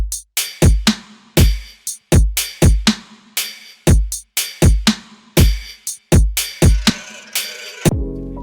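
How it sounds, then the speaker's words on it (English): A distorted drum mix with a pitched-down kick and soft tube amp saturation, its punchy crisp hits landing in an uneven groove, loud and alone, with a brief sustained tone at the very end. "All it needed is a bit of distortion and some transient processing, and that goes for all the drums."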